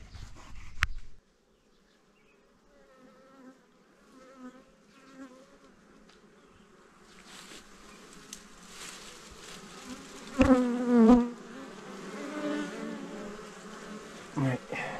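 Honey bees buzz in a steady, thick drone at an opened hive in Mafate, with a few louder passes close by. Short handling knocks and brief human sounds can be heard as the work goes on.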